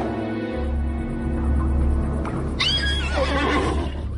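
Frightened horses neighing in a stable: a loud, shaky whinny breaks out midway over a low, steady rumble, with a fainter horse sound before it.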